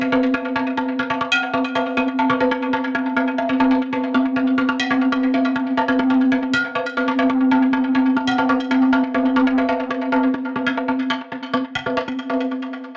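Techno synth pattern from the free Flechtwerk 2.0 VST plugin with its modulation switched off: a loud, steady droning tone carrying a fast, busy pulsing texture, with no voices over it.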